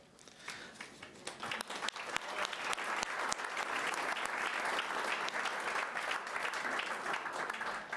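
Audience members at a county board of supervisors meeting break into applause, scattered claps building quickly into steady, sustained clapping that carries through to the end.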